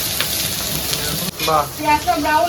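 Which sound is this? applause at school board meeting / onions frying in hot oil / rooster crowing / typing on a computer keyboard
onions frying in hot oil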